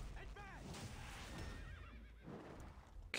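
A horse whinnies in the video game Epic Seven, a wavering neigh heard twice amid game effects and background noise, with a voice talking over it.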